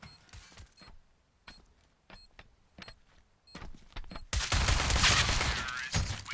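Rifle fire in a Counter-Strike match on the map Train comes as sharp single shots and short bursts, then a loud dense stretch of shooting and commotion near the end, with no talking heard.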